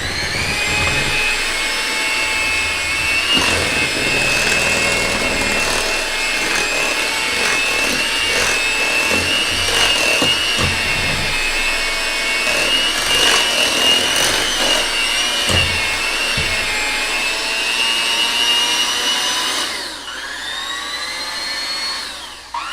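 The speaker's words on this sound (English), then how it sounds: "You're just going to mix that for just a few more seconds." An electric mixer beats lemon cupcake batter with milk, a loud steady whir with a clattering edge as the beaters hit the bowl, then easing down near the end.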